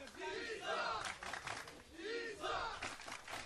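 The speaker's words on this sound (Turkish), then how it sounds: "Evet, tezahüratları da sizler de duyuyorsunuz." A crowd cheering and chanting at an O.F.C kickboxing event, rising and falling in two loud surges of massed voices filling the arena.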